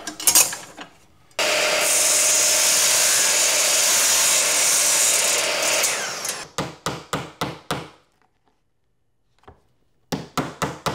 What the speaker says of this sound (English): I'm gonna cut it on my saw